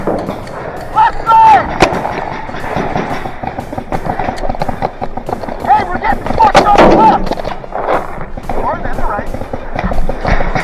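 Paintball guns fire in rapid, scattered pops during an outdoor team game with enemies to the left, some near and some farther off, mixed with engine-like rumble and voices talking over the action.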